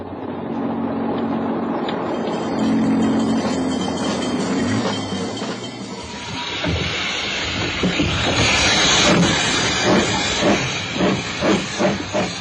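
A train with loud hissing steam, then a rhythmic clickety-clack of wheels on rails building as it rolls past close by.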